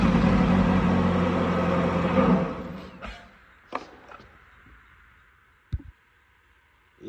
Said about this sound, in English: have someone crank the engine while watching the meter